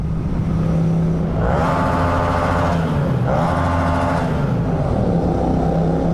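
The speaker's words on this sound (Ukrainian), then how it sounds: "Але знаєте, як в тунелі мотоцикл співає?" A loud motorcycle engine drones continuously inside a tunnel on the Passo del Muraglione in the Italian Apennines, its pitch rising in two sweeping climbs with a boomy, reverberant resonance.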